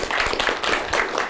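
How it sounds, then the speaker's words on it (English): Brief round of audience applause from a small group, a quick patter of individual claps at moderate loudness with no talking over it. "let's give Greg a round of applause"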